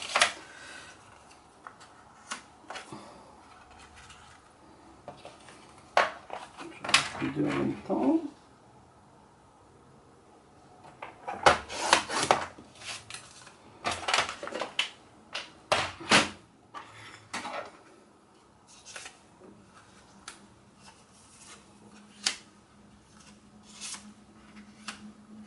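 A blade paper trimmer slices diagonally across paper for a pocket-sized scrapbook mini album, giving close, crisp bursts of sliding scrapes and clicks separated by quiet pauses.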